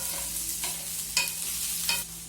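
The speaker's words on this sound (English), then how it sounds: "And then you have to add capsicum. Like this, and stir it gently." Capsicum being stirred gently in a frying pan while cooking Chinese noodles: a few distinct scraping strokes over a soft, continuous sizzle.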